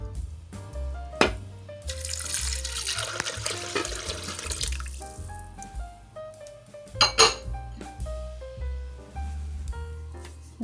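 Water poured into a slow cooker of baked beans with red beans and beef broth, splashing and trickling amid clinks of a pot and utensils, with background music playing throughout.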